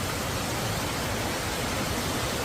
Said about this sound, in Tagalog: Ayun yung waterfalls na isa pa.